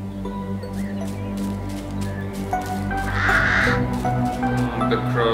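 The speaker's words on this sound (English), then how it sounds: "The crows are freaking out." Crows in the video game Little Misfortune caw in a rapid, agitated series of harsh calls over a steady tonal game soundtrack, growing louder toward the end.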